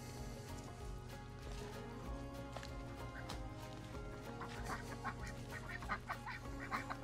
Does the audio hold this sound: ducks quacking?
yes